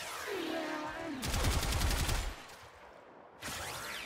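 Gotva Prime rifle in Warframe firing a rapid, loud burst of tightly spaced shots for about a second, then a second short burst after a brief pause, over steady game ambience.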